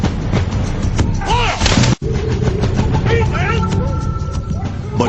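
Disciplined British troops fire musket volleys in a wilderness battle, with repeated loud cracking bangs and booms overlapping in a dense, chaotic barrage, with a voice present.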